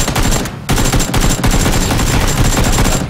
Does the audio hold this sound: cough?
no